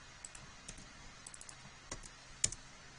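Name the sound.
typing keyboard shortcuts on a computer keyboard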